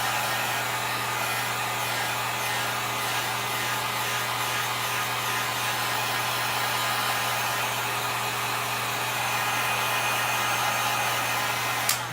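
A hair dryer blows steadily and loudly across freshly applied chalk art, a constant whooshing roar with a low motor hum running unbroken throughout, no voices over it.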